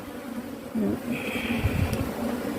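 Honeybees at an opened, crowded backyard beehive hum in a soft, continuous buzz close by, with faint background voices and small handling noises mixed in.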